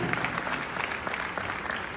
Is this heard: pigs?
no